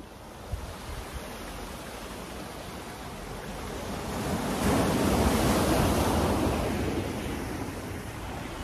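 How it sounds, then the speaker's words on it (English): Atlantic Ocean surf heard from a waterfront hotel patio in Senegal, a steady broadband wash of waves that swells louder midway as a breaker rolls in, with some wind rumble and no talking. "If you guys hear the waves in the background and the sea, that's the Atlantic Ocean."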